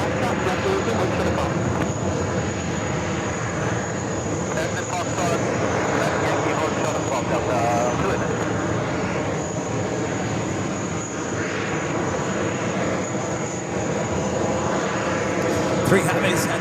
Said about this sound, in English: Delta Airlines in the BCRF livery. Flight 265 coming in from Paris. is a 767-400ER.